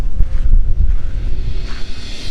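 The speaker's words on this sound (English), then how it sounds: "It is the wind blowing through" Wind rushing through an opening that someone left open, a low, steady rumbling roar with gusty swells throughout, fairly loud and close.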